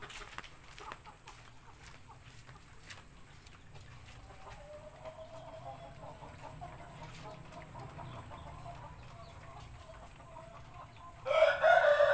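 Shamo chickens cluck and peck softly in a quiet coop while eating, faint and scattered, until a louder burst of squawking near the end.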